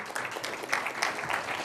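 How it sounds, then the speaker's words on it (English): Audience at a Philadelphia City Council debate event applauding, a steady dense patter of many hands clapping at moderate distance, brief and continuous with no voices over it. "You're not supposed to applaud yet."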